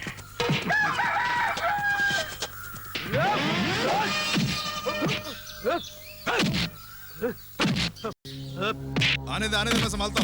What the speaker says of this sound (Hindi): भागे मुर्गियाँ